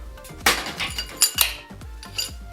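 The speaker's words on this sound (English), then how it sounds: "we're just going to drop these bolts through now" Metal bolts clink and rattle as they drop through the housings of a Mazda RX-7 13B rotary engine, several sharp close metallic taps in quick succession.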